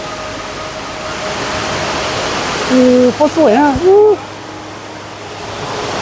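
Khlong Lan National Park waterfall in Kamphaeng Phet roars as a constant broadband rush, while a nearby voice briefly exclaims over it midway.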